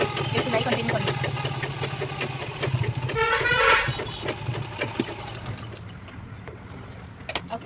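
A sewing machine runs steadily while stitching a purse with a lock stitch, its close, continuous motor whir swelling briefly, then easing into slower, intermittent clicks and pauses.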